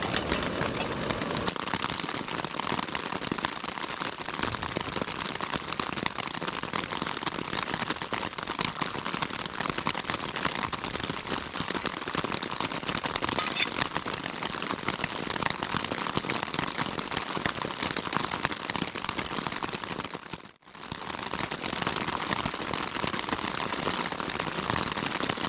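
Steady, dense rain hisses and patters without pause on the West Highland Way near Loch Lomond, close and loud, with a brief drop-out near the end.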